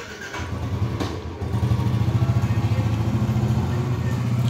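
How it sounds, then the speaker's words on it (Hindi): A motorbike engine starts up nearby and settles into a steady, loud, pulsing putter that grows slightly stronger as the bike pulls away. "भाई ने निकाल ली अपनी बाइक और निकल रहे हैं ऑफिस के लिए"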